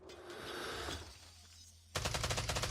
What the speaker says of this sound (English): Imagine spawning into gunshots.